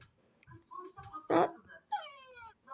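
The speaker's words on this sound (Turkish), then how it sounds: "Böyle miyavlayan bir şey var." Short electronic meows from a toy repeat several times, with soft taps and a brief sharp burst between them, close by and fairly quiet.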